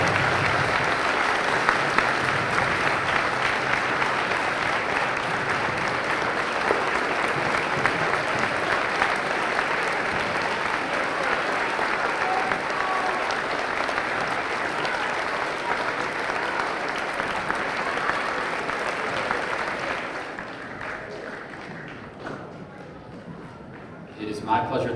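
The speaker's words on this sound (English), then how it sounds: "let's give one round of applause to all our veterans and all our service people here today" A school assembly crowd at a middle school Veterans Day event applauds veterans and service members, a long sustained roar of clapping at moderate distance that holds steady before fading out near the end, with faint voices mixed in.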